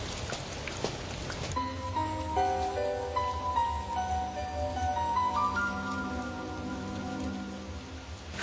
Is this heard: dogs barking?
no